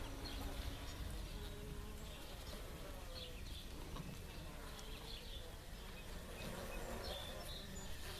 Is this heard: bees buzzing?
yes